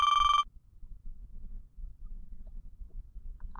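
A mobile phone ringtone sounds as a short, bright electronic burst near the mic, then cuts off, leaving a quiet background rumble with no talk.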